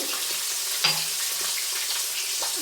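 Rohu fish fry steadily in a pan of hot oil, giving a continuous, dense sizzle with a brief clink partway through, heard alone with no talking.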